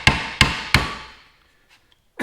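Three quick, sharp hammer taps on an aluminum valve cover of a Toyota 4Runner's 3.4L 5VZ-FE engine, close and ringing, followed by silence and then a brief scrape.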